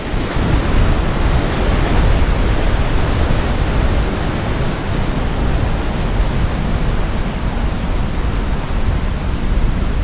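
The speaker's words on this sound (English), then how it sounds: "The water's really moving." Rushing stream water near the caved-in workings of the Bayhorse mining ghost town, a loud, steady broadband roar that fills the whole clip without pause, close to the microphone and with no voices.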